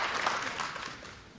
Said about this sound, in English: the crowd giving Abdullah a clap there